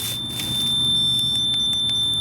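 Inside a historic courthouse in Hermann, Missouri, a steady high-pitched electronic tone sounds alongside short repeated beeps from a machine, over a low machine hum.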